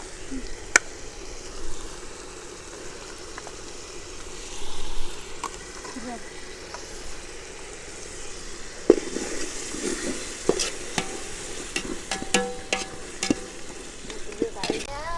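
Onions and spices sautéing in a pan for Sunday-style mutton biryani with yogurt, a steady close sizzle broken by repeated spoon scrapes and taps against the metal, with a voice speaking intermittently.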